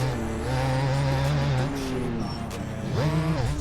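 A motocross bike engine in third gear in the MX Bikes video game, a steady buzzing whine that holds pitch, dips as revs fall, then rises again near the end, loud and close.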